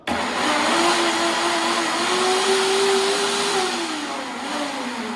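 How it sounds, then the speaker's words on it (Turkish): An electric kitchen blender runs steadily, whirring through a vitamin D immune-boosting juice cocktail at a loud, even motor pitch from start to finish, with a slight dip near the end. "blenderımda bunu karıştıracağım."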